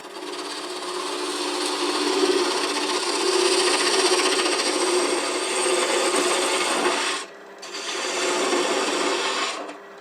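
A spindle gouge scrapes steadily against scrap wood spinning on a lathe, a continuous rasping hiss that cuts out briefly once before resuming.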